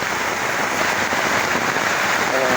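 Heavy rain pours down on a campsite awning in a steady, dense roar that stays loud and unbroken throughout, with no voices.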